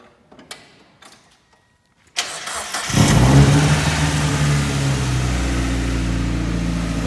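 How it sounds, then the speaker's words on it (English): A $500 project car's engine is started cold: after a couple of quiet seconds the starter cranks briefly, then the engine catches with a loud rev and settles into a steady, rumbling high idle close by. "Bit of a cold start."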